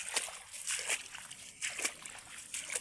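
Legs wade through thigh-deep floodwater in flooded rice fields, each step giving a heavy splash and slosh at a slow, uneven rhythm, close by and fairly soft.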